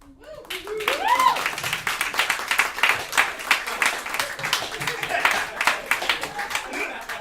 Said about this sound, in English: It is very nice that y'all are clapping